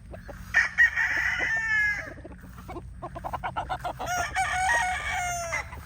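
Several brood stag roosters crow in overlapping calls at close range, with clucking and short chattering notes between the crows.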